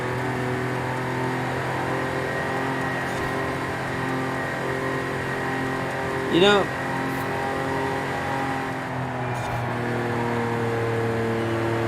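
The 1982 DeLorean DMC-12 engine runs loud at steady high revs, a droning harmonic tone throughout. A voice speaks briefly over it, and a short chirping sweep cuts in midway.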